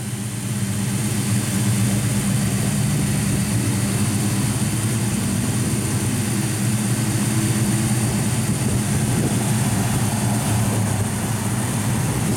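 A 1948 Chevrolet 3100 pickup idles through dual exhausts with Walker mufflers, a steady, loud low rumble holding even for the whole stretch with no talking.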